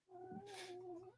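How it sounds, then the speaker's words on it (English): A cat that has just been bumped gives one drawn-out, complaining meow. It is faint and tonal, with a brief rustle partway through. "I thought I heard a cat"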